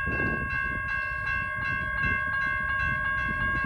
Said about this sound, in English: I did manage to catch a Flat Rock train going through